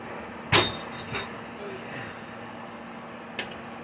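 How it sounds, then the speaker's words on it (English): A hammer strikes a rivet on a steel riveting block while traction engine rear wheels are assembled, one sharp metallic blow followed by a lighter tap and a later faint knock, close, in an otherwise quiet workshop. "riveting, which you've seen me do on the earlier videos. Riveting block."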